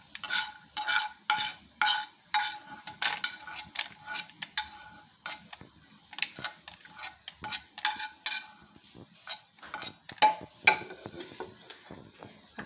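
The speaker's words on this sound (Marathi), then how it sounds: "आता ह्याच तुपात मी या भोपळ्याच्या बिया तळून घेते।" Pumpkin seeds fry in ghee in a pan, stirred repeatedly so that irregular scraping and clattering bursts ride over a faint sizzle, close and fairly quiet with no voices.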